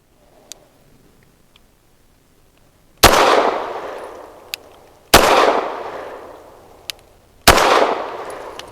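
Three sharp pistol gunshots from a Rock Island Derya Arms Melik firing Federal HST 124 grain rounds crack at roughly two-second intervals, each with a ringing decay, while faint ticks sound in between.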